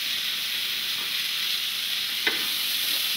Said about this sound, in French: Tu mélanges bien, bien, bien.